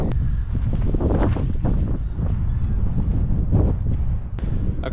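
Strong wind buffets the microphone outdoors on a blustery disc golf course in Iowa, producing heavy, fluctuating low roaring gusts that dominate the whole stretch.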